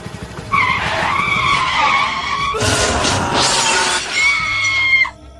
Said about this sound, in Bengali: রাস্তায় তেল পড়ে থাকার জন্য পিছলে যায়